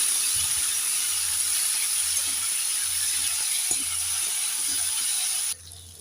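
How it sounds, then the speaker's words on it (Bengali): Ivy gourd sizzles steadily in a hot pan with salt and turmeric, a continuous close frying hiss with soft stirring scrapes, then drops quieter near the end. "এবার নেড়ে করে হলুদটাকে লাল লাল করে ভেজে নেবো"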